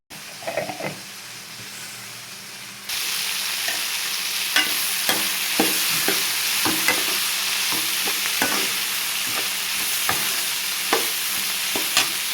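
Broad beans fry in a pan with a steady, close sizzle that swells after a few seconds, broken by repeated scrapes and knocks of a spatula stirring them.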